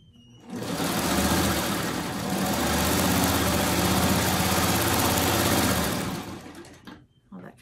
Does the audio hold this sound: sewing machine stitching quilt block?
yes